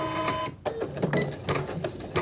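A Janome MC10K embroidery machine makes a single stitch: a brief mechanical whir and clack from the needle mechanism, close by and fairly loud against a steady motor hum.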